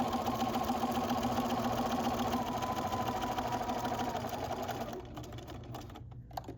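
A sewing machine stitches the seam of a fabric book bag in a fast, steady mechanical whir, close and continuous, slowing and stopping near the end.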